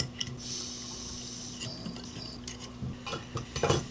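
Cold cure rosin being stirred in a small container, light scraping and clinking of a metal tool against glass, with a few sharper taps toward the end under a low background hum.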